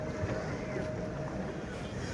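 A pedal boat glides across a park lake at a flower fair, giving a soft steady wash of water and wind noise that stays close and even, with people talking nearby.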